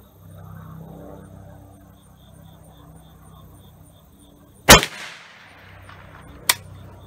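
A .308 Winchester rifle loaded with a gas-checked cast bullet over a light Trail Boss powder charge fires one loud, sharp shot outdoors amid insect chirping, then a second fainter crack a moment later.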